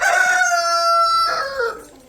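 A rooster crows once at close range, a loud, drawn-out call that rises and then falls away over about two seconds, heard alone.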